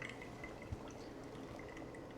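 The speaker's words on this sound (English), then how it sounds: "So we're going to pour more, same method, around the sides and in the center. And let this continue to drip down." Pour-over coffee trickling down through a filter, a faint continuous patter of drips and liquid running into the cup below, close and quiet with no voices.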